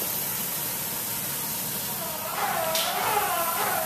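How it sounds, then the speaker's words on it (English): A steady, loud hiss of Rhino Lining bed liner coating being sprayed onto an International MXT truck runs throughout, growing slightly louder and rougher near the end. "we're going to spray the top of the truck as he's doing now"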